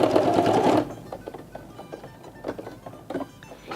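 A sewing machine stitches a small overstitch along the edge of a flower-petal fabric hat. It runs in a loud, steady burst for under a second, then gives several short, quieter bursts of stitching with pauses between them.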